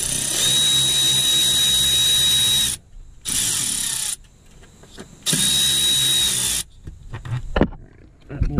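A power drill backs a bolt out of a Polaris Ranger XP1000 utility vehicle, running in two loud, steady high-pitched whirring bursts separated by brief pauses and small clanks, close by.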